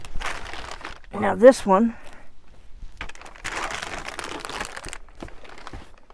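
Bubble wrap packaging is handled and unwrapped, giving close plastic crinkling and rustling after a brief spoken remark, with a short vocal sound early on.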